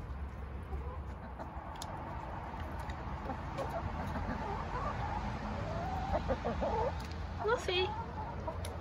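Pet chickens cluck and chirp softly in the background, with a few louder calls near the end, while a person talks over them.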